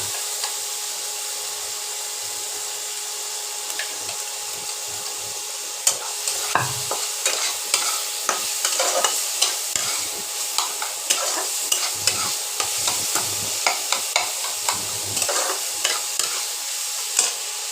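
Fried potatoes going into a pan of paneer curry, frying and stirred, with a steady sizzle and repeated scraping strokes of a spatula that grow more frequent and louder partway through, no talking.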